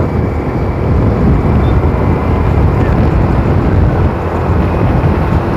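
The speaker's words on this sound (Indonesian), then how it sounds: "Anginnya kenceng banget, teman-teman." Strong, steady wind buffets the microphone outdoors in a Minangkabau village in Bukittinggi, a continuous low rumbling roar that fills the whole clip with no break.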